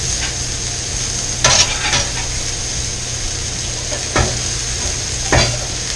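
Patty melt burgers fry loudly on a powerful griddle turned up high, giving a steady, dense sizzle throughout, with a few brief scraping clatters as the patties are moved.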